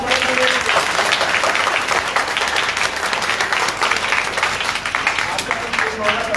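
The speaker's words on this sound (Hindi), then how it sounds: "सभी लोग ताली बजाना है" A school audience at Priyanka Vidya Mandir, Kailaras, Morena, applauding steadily for several seconds, dense continuous clapping with a faint voice or tone now and then underneath.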